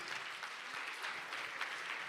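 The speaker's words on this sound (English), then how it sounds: "And a round of applause, please, for Wanja." Applause at a book launch for a memoir titled Against The Tide: a steady patter of clapping from an audience, held at an even level and moderately distant throughout, with no talk over it.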